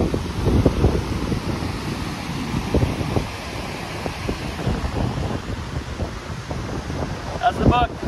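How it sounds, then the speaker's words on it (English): Steady outdoor wind buffets the microphone with low rumbling gusts throughout, loud and continuous, with no voices. "Windy and warm."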